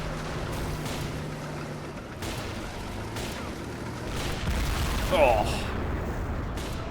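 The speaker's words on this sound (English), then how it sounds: "Mortars landing close." Mortar shells burst close by on a 1944 WWII battlefield in a strategy game, dull thuds and rumbles under continuous low battle noise as armor and infantry advance, with a brief spoken exclamation.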